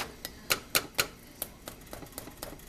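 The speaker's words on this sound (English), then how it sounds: "I crunch the skin. So it should sound something like this." Sharp, crisp crunching bursts of crispy pork skin repeat at an uneven pace, several loud snaps early then softer crackles, close and dry, with no talking.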